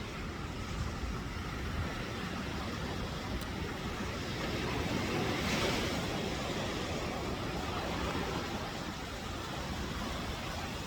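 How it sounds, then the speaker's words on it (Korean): Strong wind and rain at a beach, a broad roaring rush of wind buffeting close by with a steady hiss beneath it, continuous and fairly loud throughout, no voices. "바람이 많이 불고요. 비가 많이 와서 오늘 촬영을 제대로 할지 모르겠어요."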